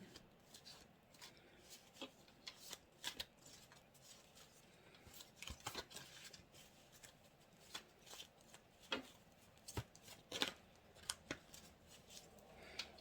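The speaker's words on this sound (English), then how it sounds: "I'm going to shuffle them up just a little bit." Soft, quick riffling and snapping of tarot cards being shuffled repeatedly, close and quiet, with no talking.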